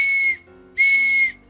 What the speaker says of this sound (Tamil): இப்ப நம்ம பாக்கெட்ல இருந்து விசில் எடுத்து நம்ம அடிச்சு பார்க்கலாம்.